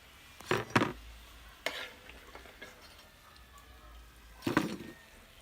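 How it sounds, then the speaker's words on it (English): Breadfruit fries in a pan, with a few clattering utensil scrapes and knocks over a faint, steady background sizzle, quiet and close, no talking. "See, I fry up now"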